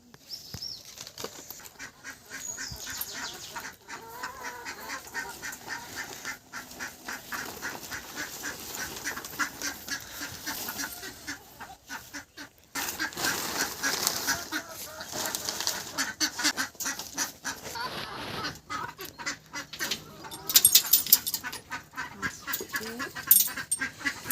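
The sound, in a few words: ducks and chickens in a coop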